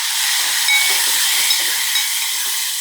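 Garlic, coriander and finely chopped tomato sauté in hot oil, giving a steady, close, loud sizzle and hiss with faint stirring clicks and no talk.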